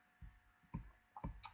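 Three distinct computer mouse clicks, close and soft, spaced roughly half a second apart in a quiet room.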